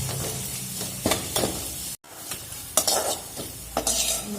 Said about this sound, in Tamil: இஞ்சி நல்லா வதங்கணும்.